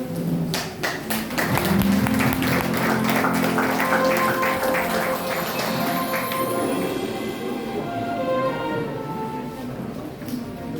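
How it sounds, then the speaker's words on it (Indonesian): Sustained applause from a church congregation at a gathering in Anjir Kalampan, Kapuas, steady and fairly loud for several seconds, with some dense tapping and thumping mixed in and a faint voice in places. "sekali lagi kita beri tepuk tangan yang meriah buat Tuhan"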